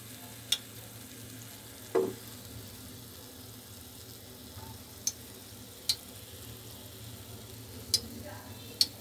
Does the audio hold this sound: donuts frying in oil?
yes